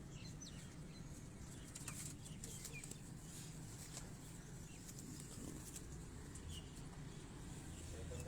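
Pigeons, including Teddy pigeons, flutter and flap their wings in a steady, dense rustle, with faint coos and clucks mixed into the busy background.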